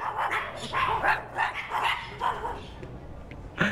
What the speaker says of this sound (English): These are the cutest little dogs.